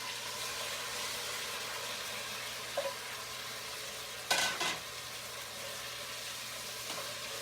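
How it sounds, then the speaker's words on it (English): Onions and tomato hiss in a pot for Sunday dinner with a faint, steady sizzle, broken by a couple of short clinks and a brief louder rattle of stirring partway through. "We're going to add the onions and the tomato to the pot."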